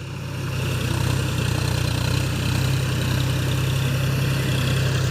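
A John Deere 5045 D tractor pulling a Shaktiman rotavator through a field drones with a steady, close, low engine rumble, running continuously without pauses and without any talk.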